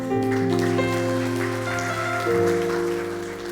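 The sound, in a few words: congregation applause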